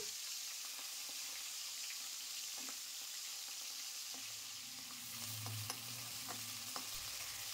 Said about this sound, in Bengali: মাছের মাথা আর মাছের তেল গরম তেলে ছেড়ে আগে ভেজে নেব